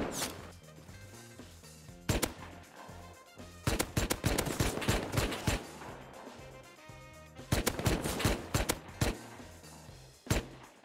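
Video game gunfire during a village raid: repeated bursts of shots in several clusters over roughly eleven seconds, loud and sharp against a busy game background, with a few isolated single shots between the bursts.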